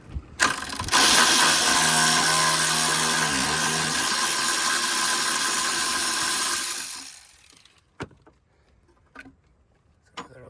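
A ratchet wrench working a 10mm bolt out of the battery tray on a Toyota 3.5L V6 2GR-FE, a loud continuous whirring buzz for several seconds, then a few sharp clicks and taps alone.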